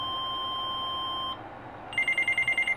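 Whistler WS1040 handheld digital scanner sounding its high-low tone alarm: after a steady beep, a rapid series of about eight alternating two-pitch electronic chirps, close and clear with no talking.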